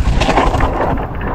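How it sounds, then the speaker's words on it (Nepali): Heavy rain falls in a forest on a downhill single trail near Gangtok, Sikkim, heard as a loud, dense, constant wash of noise with occasional knocks from the ride. "कस्तो पानी परिदिएको"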